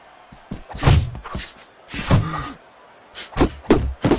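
Heavy punches land in the Fight Night Champion boxing game as a string of thudding impacts, some single and some in quick pairs, loud and close, separated by short pauses.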